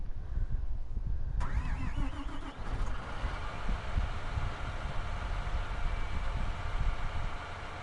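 A tractor or farm vehicle engine in a farming video game starts with a brief cranking whir, then settles into a steady, rumbling idle heard from outside, with no talk.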